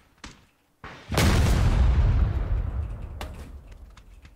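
A C4 charge detonates in a shooter game, a loud booming blast that rolls and decays over a few seconds after a couple of short clicks, with a sharp crack near the end.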